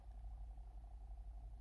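A cat purrs close by, quiet and steady, with a soft rhythmic throb that repeats evenly throughout.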